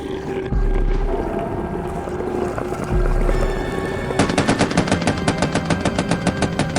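Low booming thuds in a monster movie battle scene give way to a rapid, evenly spaced burst of loud machine-gun fire.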